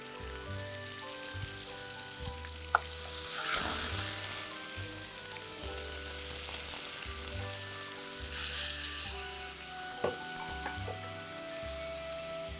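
Garlic paste and three torn bay leaves fry in a pan for chili chicken, making a steady close sizzle with light clicks and stirring knocks, no voices.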